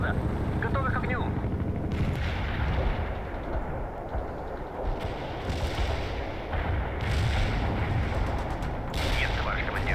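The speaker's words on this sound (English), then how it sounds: "Launching a barrage." Heavy artillery barrage in the World in Conflict strategy game, with rolling booms and rumbling blasts layered over continuous battle noise and bursts of distant fire, while someone talks over the din.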